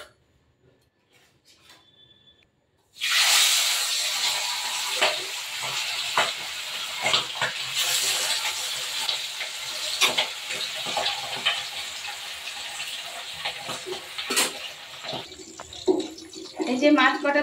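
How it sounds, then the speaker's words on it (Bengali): Pabda fish frying in oil starts after a near-silent moment: a sudden loud crackling sizzle that continues steadily, with sharper pops and a few clinks or scrapes as pieces are turned. "তো চলো মাছগুলো ভেজে নেব"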